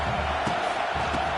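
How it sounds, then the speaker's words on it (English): Football stadium crowd noise during a game against Oregon, a steady loud roar of many voices with no pauses, surging slightly, heard up close and alone. "This crowd trying to make life miserable for this offense."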